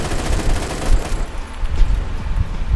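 Rapid automatic bursts from an AK-12 rifle in the shooter game Phantom Forces, a dense loud rattle of fire with short dips between bursts and no talking.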